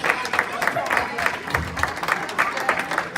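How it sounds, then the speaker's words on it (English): Audience applause fills a room at a New Year's Eve mentalist show, with steady, dense clapping close by for the full stretch and a voice talking over it. "Give her a big round of applause"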